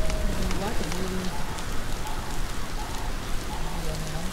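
Steady rainfall in the Hunting Simulator video game, a dense, even hiss of drops hitting the ground that runs throughout with faint tonal game sounds mixed in.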